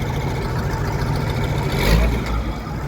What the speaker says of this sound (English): Engine's sweet.